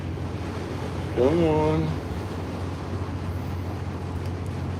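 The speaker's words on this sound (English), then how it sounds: "Oh, that wind's blowing hard out on that head." Hard, steady wind roars across the Mississippi River around a boat, a constant broadband rush with a low droning hum beneath it, while a man calls out briefly over the gusts.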